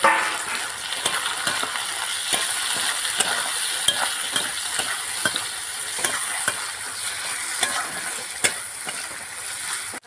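Onions and tomatoes fry in a pan of hot oil with a steady, close sizzle, dotted with scattered stirring clicks and spoon taps throughout and no talking.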